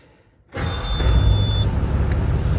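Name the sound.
Cat 315 BL excavator engine starting up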